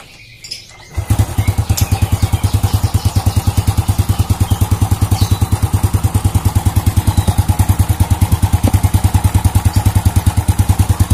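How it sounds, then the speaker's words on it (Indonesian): Toyota Supra engine idling after starting, with a steady loud rhythmic knocking clatter repeating evenly throughout, no talk. "apakah masih timbul suara geletuk-geletuk ya"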